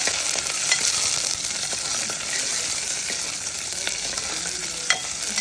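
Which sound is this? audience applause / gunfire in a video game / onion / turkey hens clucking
onion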